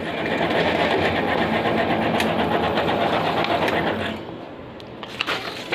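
A Xerox 5855-series office photocopier runs steadily, printing pages with a fast mechanical whir and rhythmic clatter for about four seconds before it winds down to a quieter hum with a few faint clicks.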